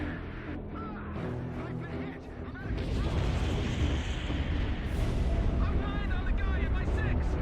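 Ballistic missile explosions in the flight combat game Ace Combat 5, with radio chatter at first, then a sudden heavy rumbling blast that swells into a sustained, loud roar with crackling debris and voices shouting.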